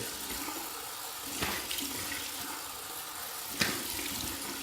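Cold water pours steadily from a tap in wintertime, a continuous close hiss and splash with a couple of brief surges, no talking.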